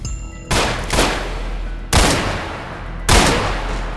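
Three loud, booming shots from an upgraded gun in the Ashes: Afterglow video game, spaced about a second or more apart, each with a heavy echoing tail that fades before the next.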